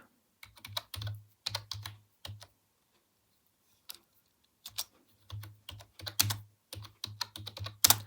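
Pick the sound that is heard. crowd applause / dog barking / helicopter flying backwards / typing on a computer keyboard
typing on a computer keyboard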